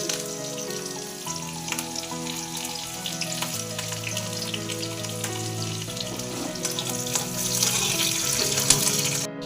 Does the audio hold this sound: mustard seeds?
yes